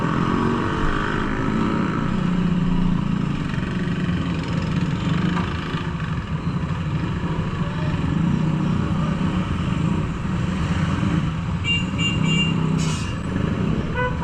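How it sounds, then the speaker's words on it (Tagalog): Heavy road traffic with cars, motorcycles and jeepneys, a continuous dense rumble of engines close by that holds steady throughout, with a brief higher whine near the end. "Grabe traffic dito."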